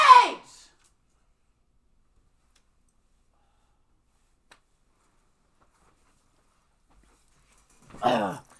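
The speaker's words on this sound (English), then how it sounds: "This dog is driving me nuts." A dog indoors lets out two short, pitch-sliding barks, one at the start and one near the end, separated by a long stretch of near silence.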